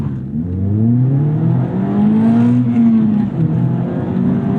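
A Mazda Miata ND3 with a naturally aspirated inline-4 pulls hard under full throttle, its engine note climbing steadily in pitch through the rev range, loud and close with a brief dip near the end.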